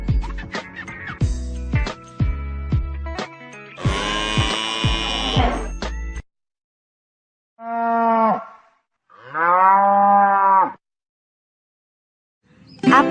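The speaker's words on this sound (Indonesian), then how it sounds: "Siapa yang menciptakan sapi?" A cow moos loudly and close, two long drawn-out calls separated by a short pause, following a stretch of electronic buzzing tones.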